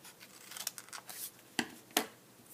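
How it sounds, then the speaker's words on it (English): Scissors snip through folded paper during a craft project, a run of soft quick cuts followed by two sharper, distinct snips, faint and close with no talking. "take your scissors and cut up one of the lines to the middle"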